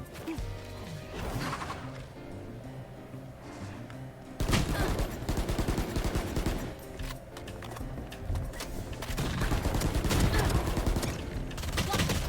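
Gunfire in the video game Valorant comes in dense, loud bursts and sustained rapid volleys that swell in the second half, with crashing impacts mixed in and a player's voice faintly underneath.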